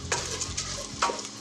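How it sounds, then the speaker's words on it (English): Pine nuts and washed medium grain rice sauteing in a pan while being stirred, a steady close sizzle with scraping strokes around the pan, no talk. "And let's saute this."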